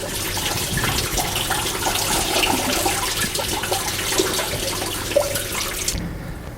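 Coolant from a Land Rover Discovery 300 TDI radiator hose pours into a bucket below, a steady close splashing gush of liquid that runs evenly for about six seconds, then cuts off abruptly.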